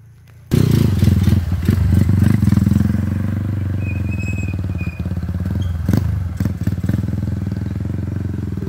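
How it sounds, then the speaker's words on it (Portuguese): Motorcycles arriving on a rural road, with loud, close engine rumble that starts abruptly and carries on with clattering thumps and scrapes. "mais motoqueiros chegando"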